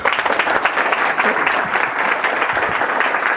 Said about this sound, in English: let's give a great round of applause to Kat Fitzgerald.